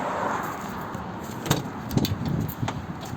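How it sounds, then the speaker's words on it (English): Steady, continuous roar of traffic on a busy road passing nearby, heard from beside a Sprinter camper van, with a few faint clunks and rattles over the top. "excuse the noise, we live on a busy road"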